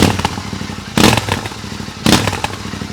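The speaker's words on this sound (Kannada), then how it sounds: "ಸೊ ಈ ಥರ ಸೌಂಡ್ ಇದೆ ಗಾಡಿದು ವಿತ್ ಬ್ಯಾಫಲ್ ತೆಗಿಯೋ ಅವಶ್ಯಕತೆನೇ ಇಲ್ಲ, ಭಯಂಕರ ಸೌಂಡ್ ಬರ್ತಾ ಇದೆ." Royal Enfield Continental GT 650 fitted with an AEW aftermarket exhaust and Way 2 Speed air filter, baffle in, idling loudly close by with two sharp throttle blips that swell and fall back; no talking.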